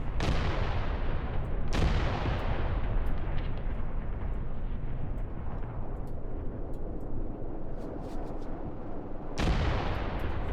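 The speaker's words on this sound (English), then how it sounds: "And our artillery is dropping over here now too." Artillery fire in the tactical war game Graviteam Tactics: heavy, booming detonations with long rumbling decays, three big blasts spaced several seconds apart over a continuous low roar of distant shelling and scattered gunfire.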